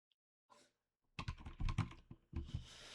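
A few taps on a computer keyboard's R key, a faint isolated click followed by a quick cluster of close, crisp keystrokes in irregular rhythm.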